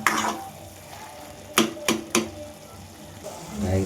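Cooked tomatoes for tomato gojju are pressed in a pot with a few sharp, close scraping thuds of the utensil over a soft simmering background, no talk.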